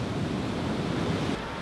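Ocean waves breaking and washing off a reef, a steady close rush of surf mixed with wind noise on the microphone, with no voices.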